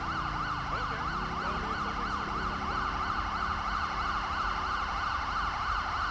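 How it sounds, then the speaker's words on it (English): Wailing ambulance sirens in GTA 5 sweep up and down continuously, several overlapping, loud and steady throughout with a low traffic rumble underneath. "We've got lots of sirens going on now."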